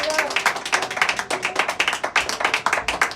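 A congregation at a church service claps in a fast, steady rhythm, loud and dense, with no talking over the applause.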